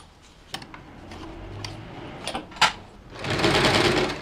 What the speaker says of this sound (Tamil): இப்போ இதை நான் தையல் போட்டு காட்டுறேன்.